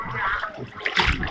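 Flood water sloshes and splashes close by in a flooded area, a loud churning rush with bursts of splatter and no clear speech.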